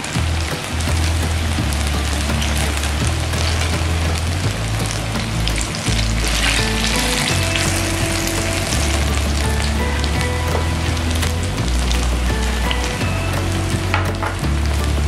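Banana and rice flour fritters crackle and sizzle in hot oil, golden and crisp, with a dense, continuous hiss and spatter under a low pulsing hum, loud and close throughout.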